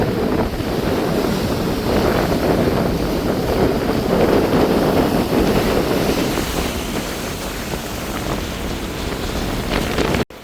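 Waves crash continuously in strong wind after a storm at the coast in Jaffna, a loud, unbroken roar with gusts buffeting the microphone.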